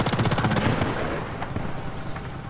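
Bursts of automatic gunfire from the video game Battlefield Bad Company 2, a rapid rattling volley that is loud at first, then thins into scattered, quieter shots and distant rumble.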